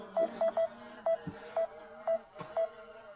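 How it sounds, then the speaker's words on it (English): A DJI Mini 5 Pro drone controller beeps in a string of short, evenly pitched tones outdoors at a snowy lake, some in quick clusters and others spaced out, faint against low background noise. "Sorry about the beeping"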